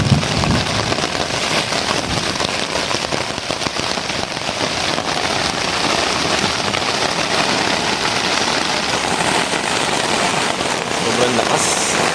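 Heavy rain drums steadily on a black cot tent at a solo motorcycle campsite, a dense continuous roar heard up close from inside, with no talking.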